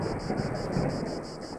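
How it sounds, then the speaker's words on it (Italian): Thunder from a nearby lightning strike rumbles low and steady under rain, a continuous, moderately faint storm wash with no voices. "Il fulmine deve essere caduto vicino al commissariato."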